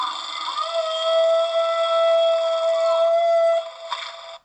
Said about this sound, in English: one of the most interesting sounds in Icelandic killer whales, I think, is the call type I-36, or the herding call.